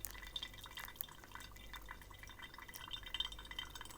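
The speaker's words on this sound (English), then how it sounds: "Now I'm going to go in and I'll do a similar pour for the second, just to ensure we get this nice and wet. But again, pretty slow." Water poured slowly over coarse coffee grounds in a V60 brewer, a faint, steady trickling and dripping stream heard close up with no talking.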